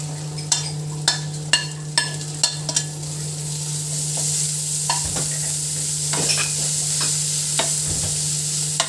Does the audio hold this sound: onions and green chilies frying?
yes